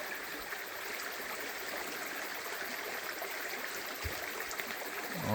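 A creek flows steadily where monkshood grows, a continuous near rush and trickle of water that holds even throughout, with a faint thump near the end.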